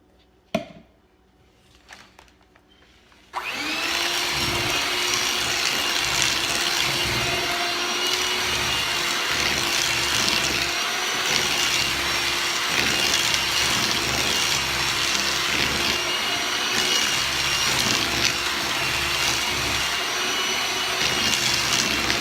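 An electric hand mixer whirs loudly and continuously, beating butter, shortening and sugar in a bowl for a lemon coconut pound cake, after a few quiet seconds of clinks before it starts.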